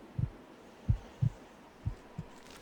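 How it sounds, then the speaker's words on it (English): A slow, muffled heartbeat in the video game Blood Will Tell (Dororo), deep low thumps in loose pairs and singles spaced under a second apart over a quiet hum, alone without talk. "Can you hear it beating? That's my heartbeat."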